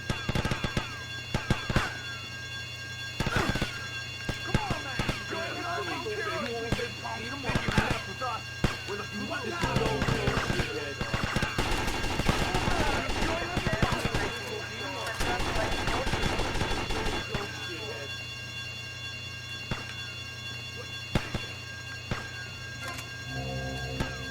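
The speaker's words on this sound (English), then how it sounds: "But someone's shooting at me." Gunfire in GTA Vice City comes as repeated sharp shots and bursts over steady game ambience and engine hum, with someone talking at times.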